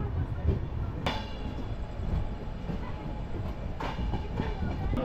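The Pothigai SF Express runs along its line, giving a steady rumbling rattle with occasional sharp clacks from the wheels and cars, heard continuously from on board.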